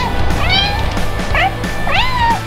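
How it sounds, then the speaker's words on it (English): A pet cat meows three times up close, each call rising and falling, drawn-out and clear against a quiet household background. "A cat."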